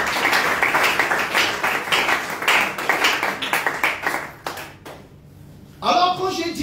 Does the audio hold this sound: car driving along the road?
no